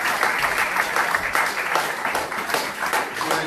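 A church congregation applauds, a dense, continuous patter of many hands clapping together that stays fairly loud throughout, with faint voices mixed in.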